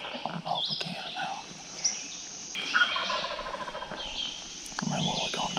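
A wild turkey gobbler in the field during a spring hunt, its rattling gobbles sounding at moderate distance amid outdoor ambience and quiet nearby talk from hunters.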